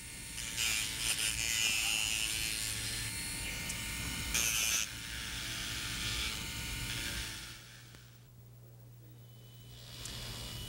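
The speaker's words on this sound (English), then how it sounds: "we've changed burrs to the small pear-shaped burr" A small pear-shaped dental burr grinds a removable partial denture in a laboratory, producing a high, buzzy whir that rises and falls as it presses and lifts, then drops to a quieter hum.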